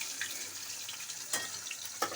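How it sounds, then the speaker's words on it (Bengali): Freshwater gurjaoli fish from a river frying in hot oil, giving a soft, steady sizzle with a few faint crackles and pops over about two seconds. "মাছগুলো ভাজা হচ্ছে"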